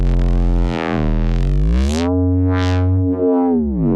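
Neuro bass synth patch with a low-pass filter whose cutoff and resonance are modulated, a loud, gritty growl that sweeps and wobbles over about four seconds, with vowel-like shifts and a resonant whistling peak, played alone.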